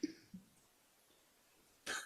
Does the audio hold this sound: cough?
yes